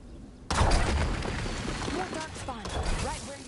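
After a moment of quiet, a sudden loud blast erupts into sustained rumbling explosions and crackling debris in Dragon Age: The Veilguard, with a voice speaking over the chaos.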